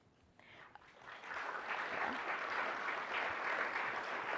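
An audience at the American Society of Nephrology presidential address breaks into applause for an award winner, starting quietly and swelling into sustained, dense clapping that carries on steadily.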